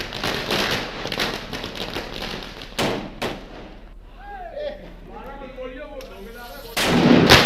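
Loud, rapid cracks and bangs of fireworks burst in a dense volley, then fade to whistles and scattered pops under distant chatter before another loud burst.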